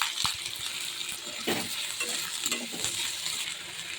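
Crackling sizzle of cut potatoes frying in hot oil with spices, with clattering as pieces drop into the pan and are stirred, close and fairly loud.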